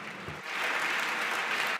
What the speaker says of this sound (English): Please give a huge applause to Laura.